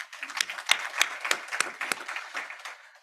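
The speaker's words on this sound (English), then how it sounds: "If you can give her a big applause, please." Audience applause at a professorial inaugural address, steady clapping from a crowd for about three seconds with sharp individual claps standing out, no voices over it.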